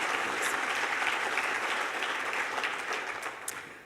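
Applause from an audience at an opioid summit, a broad steady patter of many hands clapping that gradually thins and fades toward the end.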